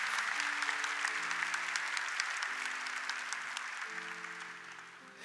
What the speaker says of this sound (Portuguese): Aplauda com muita alegria a palavra de Deus.